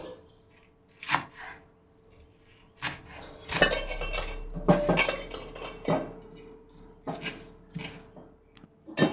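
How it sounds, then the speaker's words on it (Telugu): Bachali (Malabar spinach) leaves are cut into small pieces in a home kitchen, giving a run of irregular knocks and clatters of blade and utensils on a surface. The sounds come close and fairly loud, with quiet gaps between bursts and no talking. "దీన్ని చిన్నగా ముక్కలుగా కట్ చేసుకొని పెట్టుకోవాలి"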